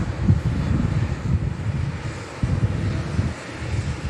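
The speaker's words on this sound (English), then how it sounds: "Next aircraft in, EasyJet." EasyJet airliner arriving at Manchester Airport, a steady low jet-engine rumble heard from a distance, mixed with gusting wind buffeting the microphone and swelling slightly midway.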